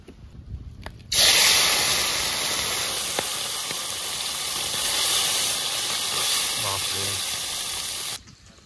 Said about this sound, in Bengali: মাছগুলো ভাজবো তো, একটু তেলটা একটু বেশি লাগবে